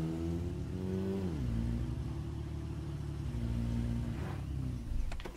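A badly wrecked car in the State of Decay video game idles with a steady, loud droning engine that drops in pitch early on and then holds a constant rumble, with a faint clatter near the end.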